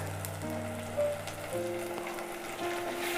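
Chopped tomatoes and curry leaves sizzling in a pan for a spicy bean nut curry, a soft continuous crackle and hiss, fairly quiet, with a faint tonal hum in the background.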